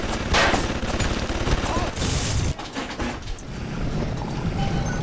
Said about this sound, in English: I think we have one turret left, as you can clearly hear. They're firing at each other